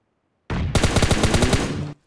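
Close, loud burst of automatic gunfire in PUBG Mobile Lite, one short shot followed by a rapid spray of about a dozen sharp rounds, cutting off abruptly into silence.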